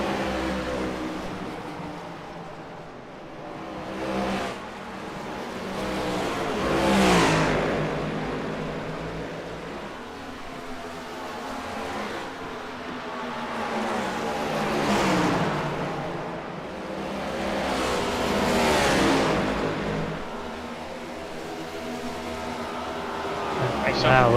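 Stock-style race cars in a video game race at Iowa, engines droning and swelling repeatedly as cars roar past in waves, a continuous racing din with commentators talking over it.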